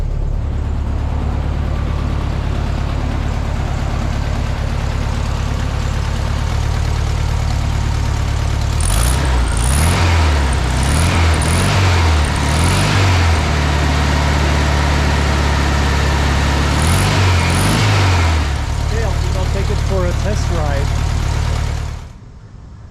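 A 1971 VW Super Beetle engine idling at about 900 RPM, a steady low rumble running throughout, with a few brief clatters in the middle and the engine cutting off near the end.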